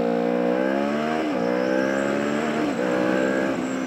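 A motorcycle accelerates hard in a steady loud whine, its pitch rising and briefly dipping at clutchless gear shifts, two quick shift breaks heard over a few seconds.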